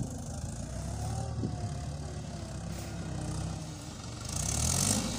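Two tractors, a Mahindra and a Farmtrac, idling outdoors at a tractor race, a low steady engine rumble at medium distance that swells slightly near the end.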